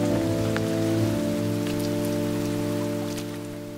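Steady rain falls during a battle scene of soldiers caught in rain and mud, a constant hiss beneath a sustained, droning low tone that slowly fades near the end, with no talk.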